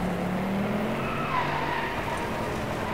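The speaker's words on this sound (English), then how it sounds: "Oh yes, that was a sick drift." A racing car in the DRIVECLUB video game slides through a drift with a steady engine drone and a thin tire squeal, loud and continuous throughout.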